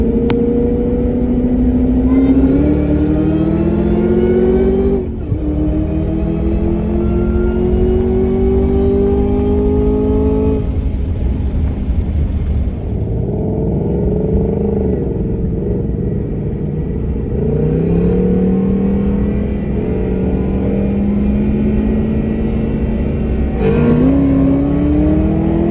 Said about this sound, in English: here she is racing that Terminator Cobra, which makes somewhere in the neighborhood of between 450 and 500 horsepower